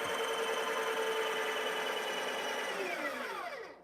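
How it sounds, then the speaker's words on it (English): The built-in burr grinder of a Breville espresso machine whirs loudly and steadily up close, then winds down in pitch over the last second as it stops. "Start the grinder."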